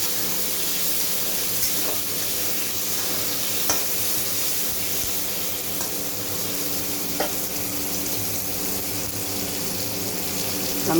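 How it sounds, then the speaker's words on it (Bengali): Two cut tomatoes frying in a pan for a potato and paneer curry, giving a steady close sizzle throughout with a few light clinks of stirring, and no voices. "টমেটো আমি ভালোভাবেই ভেজে নেব।"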